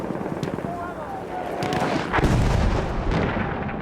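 Russian sniper rifle shots in Battlefield 1 on the Sinai Desert map crack out amid distant gunfire and a heavier boom near the end, with a voice commentating over them.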